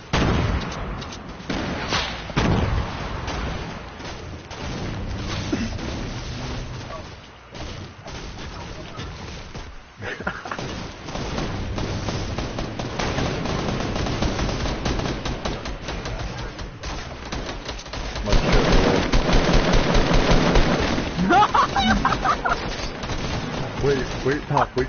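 Gunfire in the video game Fortnite during a 50 versus 50 match, dense bursts and booming shots rolling continuously across the whole stretch, loud and busy, with players talking over it.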